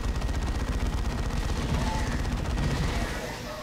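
Rapid, dense bursts of alien venom cannon fire in the sci-fi battle game Dawn of War 2, loud and continuous like heavy gunfire, easing off slightly at the end.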